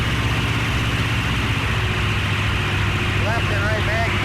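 A Mitsubishi A6M5 Zero warbird's engine held at 2,000 RPM during a ground run-up, producing a loud, steady, close droning roar throughout, with a voice faintly audible over it.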